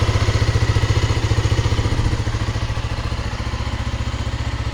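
Honda XL250 Degree motorcycle engine running while riding, with new chain, sprockets and tyres; a loud, close, steady thumping with a regular pulse and a slight drop in pitch partway through, and no talk.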